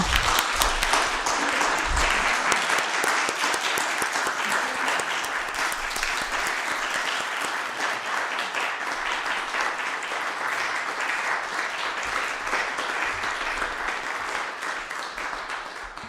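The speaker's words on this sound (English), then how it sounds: "Let us give them a big round of applause." Sustained applause from an audience at a mini meditation retreat, a dense, steady wash of clapping that carries evenly for the whole stretch and fades slightly at the end.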